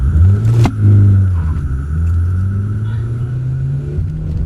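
A car pulls away and accelerates in a Hindi audio drama, a loud, close engine rumble climbing in pitch. A brief clunk comes near the start.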